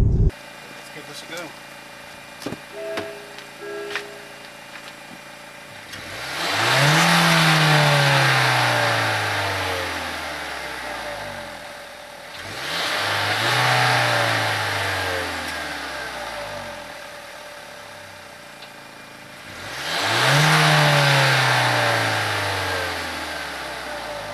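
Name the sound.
car exhaust revving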